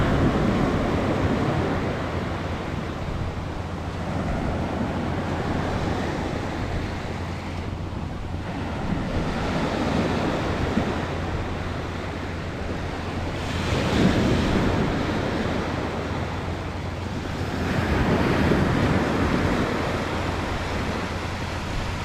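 Surf rolls onto a beach in Thailand at sunrise, with broad washes of waves swelling and receding every few seconds under steady wind rumble buffeting the microphone, and no voices.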